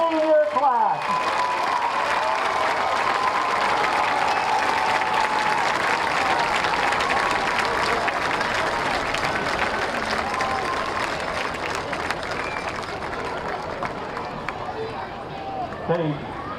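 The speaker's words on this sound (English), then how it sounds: "Please join us in a round of applause for this year's senior class." A large crowd in the stands at a high school football game between Altoona and Central Dauphin applauds the senior class, sustained broadband clapping and cheering held over a long stretch with faint announcer talk beneath.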